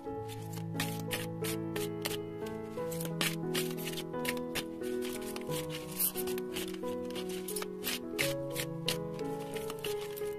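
Oracle cards are shuffled and drawn during a tarot reading: light papery flicks and soft taps over steady melodic background music.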